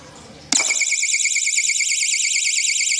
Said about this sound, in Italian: l'allarme suona.